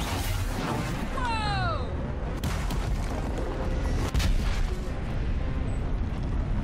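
Gunfire and booms come from the Lego Dimensions video game in a Wild West level. The bangs are loud and dense over constant game sound, with a whistling tone and people talking over it.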